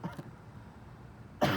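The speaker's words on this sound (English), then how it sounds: "hang on, I gotta cough real quick." A couple of short coughs at the start, then a quiet pause, ending with a sharper, louder throat-clearing burst.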